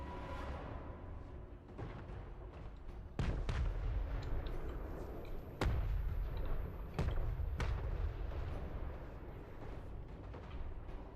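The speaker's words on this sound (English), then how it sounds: "Grand Cannon ASMR." Cannon fire in a Total War battle game, several heavy booming blasts spaced irregularly over a rumbling battlefield bed, loud and close.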